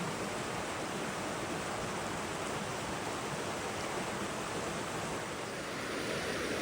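Steady broadband rush of West Creek Falls, a two-tier waterfall above a small pool in Rocky Mountain National Park, filling the whole stretch evenly and fairly close, with no voices over it.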